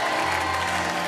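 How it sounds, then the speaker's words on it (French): A studio audience at a televised call-in contest applauds the car winner, a dense, steady wash of clapping filling the whole short moment. "je vous demande d'applaudir le gagnant de la voiture tout à l'heure qui s'affiche maintenant"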